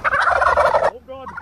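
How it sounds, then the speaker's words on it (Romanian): A turkey gobbles loudly in a rapid, rattling burst, followed by a quieter trailing call after a brief pause. "Nu claxona curcanii, că ne înjură!"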